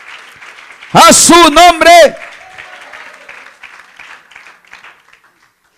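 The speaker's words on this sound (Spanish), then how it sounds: "Dale un fuerte aplauso al Señor." Church congregation applauding during a Spanish-language service: a loud, dense burst of clapping lasting about a second, with a preacher's voice before and after it.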